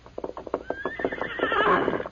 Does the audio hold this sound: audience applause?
no